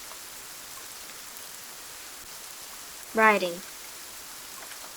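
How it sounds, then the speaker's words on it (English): Steady pouring rain hisses outdoors on a cool day while riding out with horses; one brief voice cuts in near the middle. "the rain was pouring quite a bit by now"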